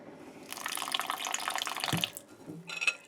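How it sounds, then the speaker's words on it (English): Tap water runs in a steady splashing stream for about a second and a half as it is added to flour for bread dough, then stops, followed by a few faint handling sounds and a brief second trickle. "Add a little extra water."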